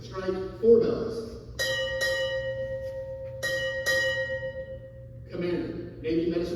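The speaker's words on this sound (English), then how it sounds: "Strike 4 bells." A ship's bell struck four times in two quick pairs during a US Navy change-of-command ceremony, each clear ring sustaining and decaying, with spoken announcements just before and after.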